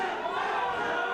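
An independent wrestling crowd roars during a submission hold, a continuous wash of cheering and shouting from a packed room that stays steady for a brief moment, with no voice rising above it.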